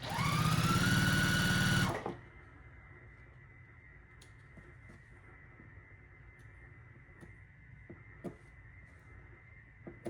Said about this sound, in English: So let's get this one sewed down.